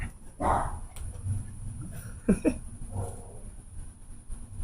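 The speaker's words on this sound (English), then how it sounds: "Don't bark at me. I don't want you to bark at me." Dog in a Houston backyard giving a few short, soft barks and whimpering yips spread across the moment, at moderate distance with low background hum.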